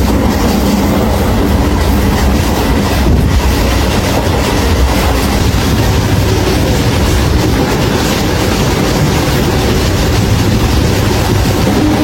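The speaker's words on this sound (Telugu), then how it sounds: "ఈ ట్రైన్ వచ్చేసి విశాఖపట్నం నుంచి పలాస వరకు 200 kilometers అయితే జర్నీ చేస్తుంది" A MEMU passenger train running from Visakhapatnam to Palasa, its carriages rattling with a steady clickety-clack of wheels over rail joints, loud and continuous from inside the moving train.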